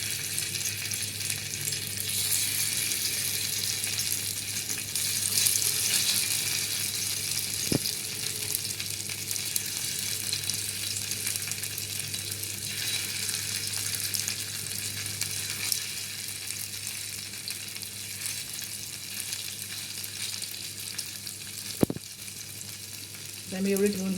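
Paneer pieces shallow-frying in moderately hot oil, a steady close sizzle running throughout, with two sharp clicks of utensil against pan along the way.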